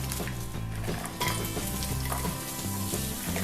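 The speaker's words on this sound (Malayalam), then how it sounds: "ഇനി അതിലോട്ട് നമുക്ക് സവോള ഉണ്ടാവും. ഇത് 5 സവോള നീളത്തിൽ അരിഞ്ഞതാണ്." Five long-sliced onions frying in ghee over medium flame, a dense crackling sizzle with spoon clinks and scrapes against the pot, close and continuous, with a steady low hum underneath and no speech.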